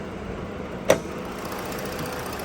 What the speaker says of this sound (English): Just smooth, naturally aspirated V6 engine.